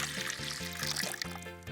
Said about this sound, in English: So we need to now pour this in our giant pitcher.